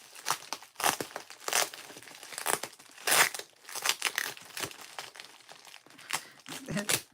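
Bubble wrap and tape being handled up close: bursts of crinkling and rustling with tearing sounds in quiet, uneven spurts over several seconds.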